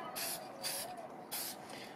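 Krylon aerosol spray sealant is sprayed onto stamped cards in three short, quiet hissing bursts close by, with brief pauses between them.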